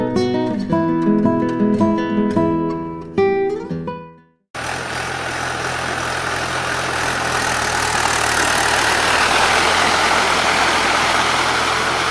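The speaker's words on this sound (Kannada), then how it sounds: "ಟ್ರ್ಯಾಕ್ಟರ್ನಲ್ಲಿ ಗದ್ದೆ ಉಳುಮೆ ಮಾಡುವುದರಿಂದ ಮಣ್ಣು ಜಾಸ್ತಿ ಅಗೆಯುತ್ತದೆ." A tractor ploughing a paddy field runs with a steady, loud engine drone that starts abruptly and continues unbroken, after a stretch of music.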